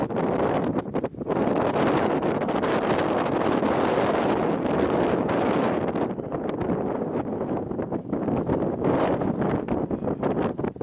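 Strong, steady mountain wind near Hallett Peak buffets the microphone in loud roaring gusts, with brief dips before the rushing noise surges back, no voices heard.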